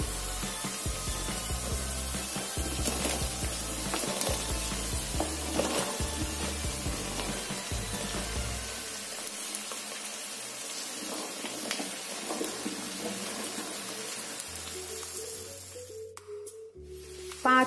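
Moringa drumstick pieces and potatoes fry with softened onions in a pan, giving a steady sizzle with stirring knocks and scrapes in the first half, then a quieter, thinner frying hiss.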